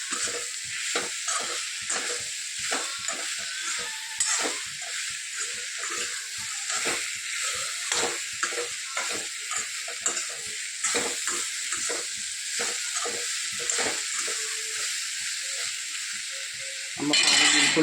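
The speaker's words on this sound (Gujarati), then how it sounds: "ભૂંગળા તળ્યા હતા એટલે એક કઢૈયામાં મેં આ શાક બનાવી દીધું." Ridge gourd sabzi sizzles in an iron kadai while a spatula scrapes and stirs it in steady, repeated strokes over a constant frying hiss, close and clear with no talking.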